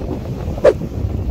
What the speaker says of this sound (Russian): Правда, сегодня ветрено, но ничего.